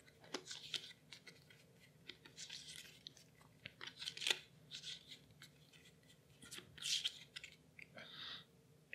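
A deck of Altar Quest board game cards is shuffled together, producing quiet, intermittent papery rustles and soft snaps close by.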